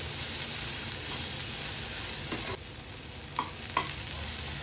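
Cluster bean poriyal is tossed and mixed in a hot pan: a loud, constant sizzle with a few distinct scraping strokes of the spatula toward the end.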